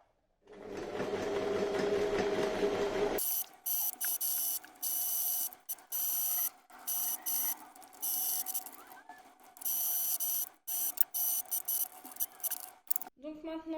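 A domestic sewing machine stitches around the edge of a terry-cloth turban hair towel in a series of fast, buzzing runs broken by short pauses, close and fairly loud, after a brief opening stretch of lower handling noise.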